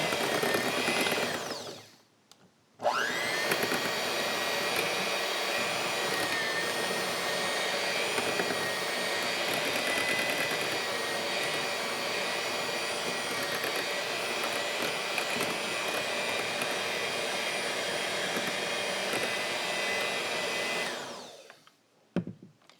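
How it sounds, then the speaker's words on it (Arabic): An electric hand mixer whips cream cheese with a continuous high whine, briefly stopping and restarting near the beginning and then running steadily until it winds down at the end. "غادي نحاول نطرب هاد الكريم تشيز تاعي."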